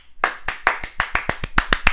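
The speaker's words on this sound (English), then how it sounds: "2 claps, please." Close, loud hand claps from a small group recording a podcast, about a dozen crisp claps in a quick, slightly uneven rhythm after a brief silent start.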